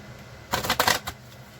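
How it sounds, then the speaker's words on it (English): A quick riffle of tarot cards, a short flurry of crisp flicks lasting under a second, close by. "I always like to do 3 shuffles."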